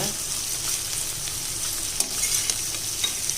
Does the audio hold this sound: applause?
no